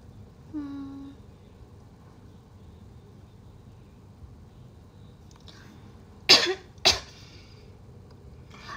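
Two quick coughs sound close by, a sharp one followed half a second later by another, after a long quiet stretch with only faint room hum and a brief tonal squeak near the start.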